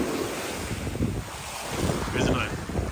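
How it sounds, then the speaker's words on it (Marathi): Sea waves break and wash on Malvan beach, a steady broad roar of surf with strong wind buffeting the microphone, the swell growing slightly louder toward the end. "तर लाट येते"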